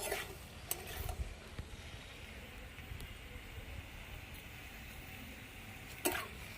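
A spoon stirs cauliflower stalk curry in a pan with faint scrapes and soft clicks against the metal over a low, steady background hiss.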